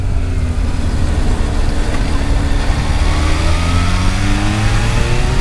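Kawasaki H2 supercharged motorcycle running on the road, a steady loud engine drone with rising and falling revs as it pulls smoothly through the gears, close and continuous with no talking.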